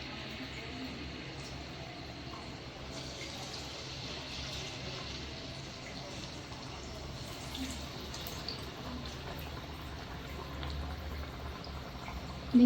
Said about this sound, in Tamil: எண்ணெயில் போண்டா அந்த மாதிரி விடணும்.